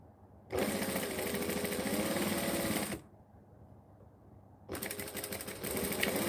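Sewing machine running a backstitch in two bursts of steady, rapid stitching, close and loud, with a quiet pause of about two seconds between them.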